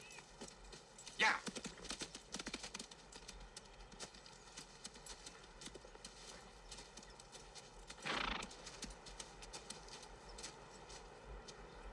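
Horse hooves clip-clop steadily at a distance, with a horse whinnying and a louder burst of movement partway through.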